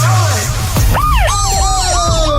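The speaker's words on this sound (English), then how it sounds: "Someone take the air siren off" A loud electronic siren wails close by in rapid, repeating swoops, dominating the clip with no talking.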